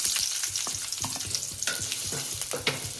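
Green chillies and chopped onions fry in hot oil for paneer masala, a loud, close sizzle with crackling and repeated stirring scrapes, no one speaking.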